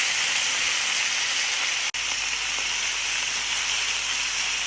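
Pumpkin pieces dropped into hot oil with dried chilli and black cumin, a steady loud broadband sizzle and hiss that runs unbroken apart from one brief dropout.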